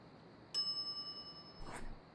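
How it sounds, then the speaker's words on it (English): A service bell rings twice in the video game The Secret of Monkey Island: a bright, clear ding with a lingering ring, then a second, softer chime, both faint against a quiet background. "Ring bell for service."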